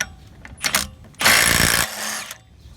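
A small 3/8-inch impact gun running a 30mm socket through a 3/8-to-1/2-inch adapter loosens a car's CV axle nut. A few light taps come first, then one loud, close, rattling burst of hammering of about half a second that fades out.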